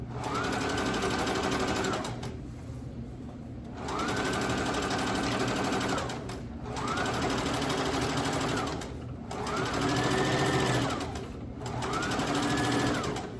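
A sewing machine stitches a designer Bible tote in five sustained runs of one to two seconds each, broken by short pauses, with the motor's whine rising and falling through each burst.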